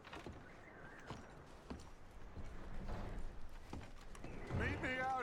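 Horse hooves clip-clop in irregular steps in Red Dead Redemption 2, fairly faint under a low ambient bed, with a brief neigh-like voiced sound near the end.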